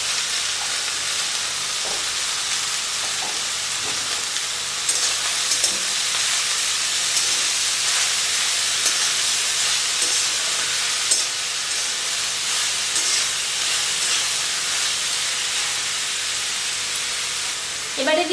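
Chopped bottle gourd lands in a pan of hot oil with fried whole-spice tempering. It sets off a loud, continuous sizzle and hiss that stays steady for a long stretch, with faint stirring scrapes now and then.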